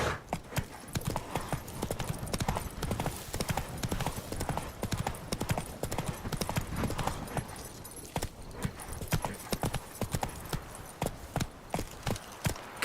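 Roach, the horse in The Witcher 3, trots along with a quick, even rhythm of hooves clip-clopping on hard ground, steady and close, joined by faint game ambience and brief voices.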